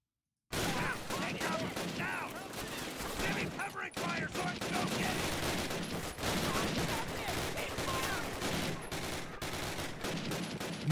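Sustained covering gunfire rattles through a Call of Duty: United Offensive World War II battle, dense overlapping rifle and machine-gun shots filling nearly eleven seconds with a few short gaps and faint voices mixed in.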